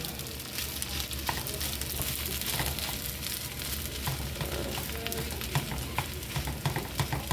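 Vegetable stir fry and fried rice sizzling steadily in a pan, a dense continuous hiss close up with occasional scraping stirs and light clinks, no voices.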